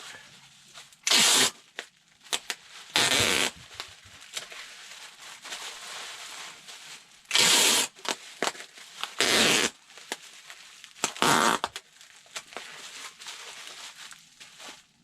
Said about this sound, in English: And then again, bubble wrap. And some tape.